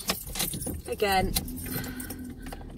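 Keys jingle and clink close by inside a parked car, a short metallic jangle under people talking.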